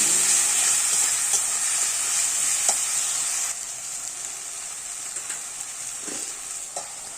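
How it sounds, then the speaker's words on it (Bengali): Spice paste with garam masala frying and being stirred in a pan, a steady loud sizzle with occasional scraping clinks, easing slightly halfway through. "আবারও গরম মশলা দিয়ে ভালো করে মশলাটা কষিয়ে নেব।"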